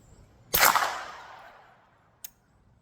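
A single loud gunshot fired through a Rugged Alaskan 360 suppressor rings out with a long fading tail, followed about two seconds later by a fainter, short metallic click.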